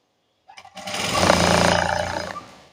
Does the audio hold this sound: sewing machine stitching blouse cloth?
yes